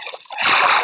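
A single Minecraft water splash sounds close and loud, with a brief faint patter before a full, sustained rush of liquid.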